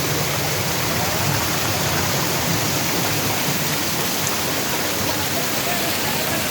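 Mountain waterfall in Duki, its water pouring and flowing in a steady, dense, unbroken rush that stays close and loud throughout, with no other distinct sounds.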